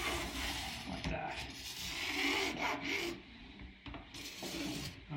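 A scraper rasps back and forth along a waxed ski held in a vise, peeling off wax in a steady stream of close, gritty strokes with brief pauses between passes.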